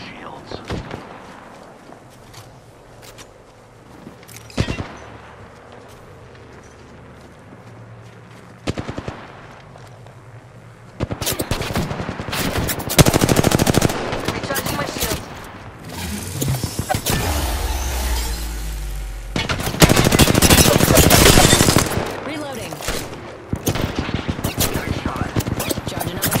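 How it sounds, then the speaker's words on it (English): Rapid bursts of gunfire in an Apex Legends battle royale match, loud clustered volleys dominating the second half after quieter stretches with a few isolated shots, with a voice talking over parts of it. "They're shooting at me."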